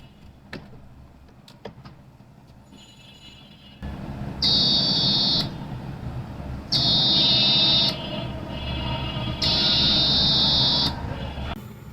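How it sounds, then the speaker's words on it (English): A buzzer alarm from a laser light security system project sounds in three loud, steady bursts of about a second each, with faint clicks and low hum between them. No one speaks. "the buzzer provides an audible alert to notify a potential security breach."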